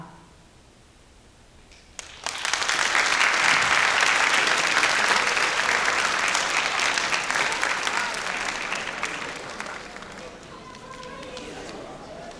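A high school audience at a responsible-driving assembly applauds the student actors: after two quiet seconds, dense, loud clapping erupts and holds steady, then gradually thins toward the end.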